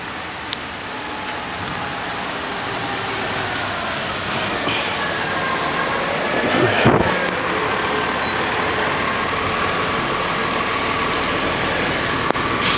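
Big city vehicles, trucks or buses, rumble past on a Canoga Park street, a steady loud roar of traffic throughout with a brief louder passing swell midway and no talk.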